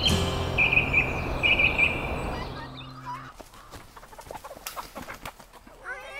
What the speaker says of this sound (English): we're gonna teach you how to catch a chicken.